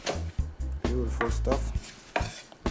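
A knife chopping fresh thyme quickly on a board, a rapid run of close, thudding cuts in uneven bursts with short pauses.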